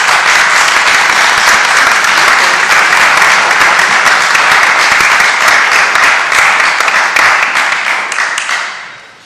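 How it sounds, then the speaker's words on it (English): Loud, close applause fills a city council committee hearing room, many hands clapping in a thick continuous burst that holds for several seconds and then fades away at the end. "you didn't think you'd get that much applause today, did you?"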